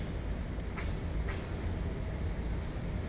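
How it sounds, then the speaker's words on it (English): A long train rolls steadily past on hot day, a continuous broad rumble and wheel rush with a couple of faint clanks, even and fairly loud throughout, no voices. "The soothing sounds of the train"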